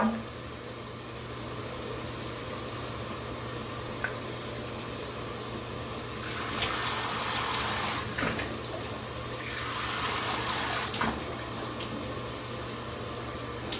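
Running shower water pours steadily while someone rinses off their face, a constant close hiss with brief swells and splashy changes as the body moves under the stream.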